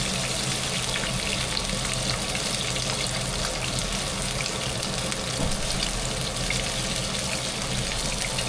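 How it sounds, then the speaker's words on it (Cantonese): Fish and orange fish roe shallow-fry together in a little oil over high heat, giving a steady, dense sizzle that holds constant throughout without pause or talk. "落多少少油，半煎炸咁樣"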